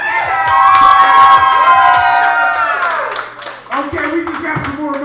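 Crowd at an urban open mic night in a bar, loud cheering, whooping and shouting with scattered clapping, close and lively, easing off toward the end.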